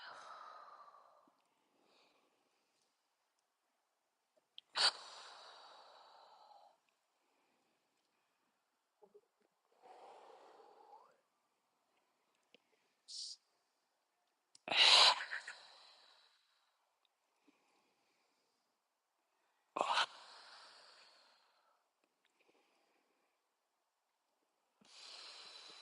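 Deep breaths during a tai chi exercise, several distinct exhales and inhales spaced a few seconds apart, fairly close and soft with quiet gaps between them, with an instructor's voice in places.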